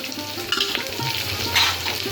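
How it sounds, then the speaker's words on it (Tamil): Carrots and beans being stirred and sautéed with onion and green chilli in a pan, a steady sizzle with scraping stir strokes, close and alone with no talk. "நல்லா வதக்கி விட்டுக்கோங்க"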